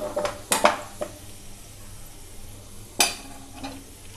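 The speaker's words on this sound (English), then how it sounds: "We have to fry the fenugreek leaves till they releases their aroma. Occasionally we have to stir them." Fenugreek leaves frying in a pan are stirred with a utensil, giving a few scattered scrapes and clinks against the pan at close range over a faint, steady sizzle.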